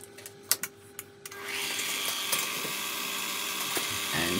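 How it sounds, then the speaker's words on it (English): Small lathe facing a 25 mm hex bar, the interrupted cut giving a steady, loud metallic chattering grind that starts after about a second of faint taps and carries on continuously to the end. "this is going to be a lot of chatter here because we're cutting hex bar on a small lathe"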